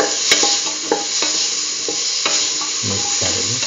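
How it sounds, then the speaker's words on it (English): Potato pieces frying and being stirred in a pan for a potato cucumber rice dish, a steady close sizzle broken by repeated scrapes and clacks of the spoon, with no talking. "Put in the potato pieces."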